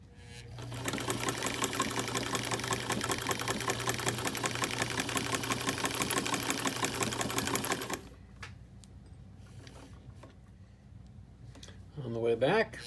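A 1954 Singer 99K sewing machine runs at a steady pace with a fast, even mechanical chatter up close for several seconds, then stops, leaving a quiet room and a voice briefly speaking.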